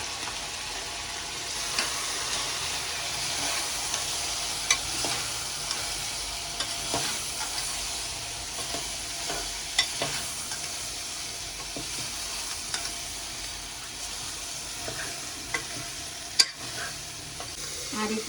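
Spoonfuls of garam masala, cumin powder and biryani masala are stirred into veg biryani in a hot pan, giving a steady close frying sizzle with scattered scraping taps of the spoon throughout, no voices.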